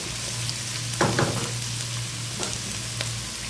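Rice frying in oil with softened onions sizzles steadily as it is stirred, with a few soft scraping stirs rising above the constant crackle and a low hum in the background.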